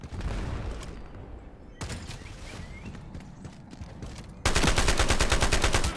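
Bursts of AUG assault rifle fire in the shooter game Ironsight, a sustained gunfire backdrop that ends in a loud, rapid full-auto stream of evenly spaced shots close up.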